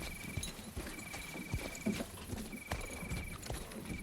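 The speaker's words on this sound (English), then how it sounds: "The horse clops quietly through the night." A horse clops along at night in a quiet, irregular patter of hooves, with soft thuds spread over a faint ambient background and no voices.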